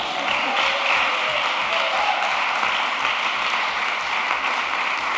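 Steady audience applause fills a poetry seminar hall, a dense, even wash of many hands clapping close and loud throughout, with no pauses.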